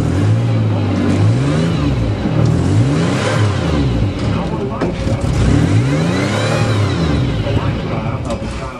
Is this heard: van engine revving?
yes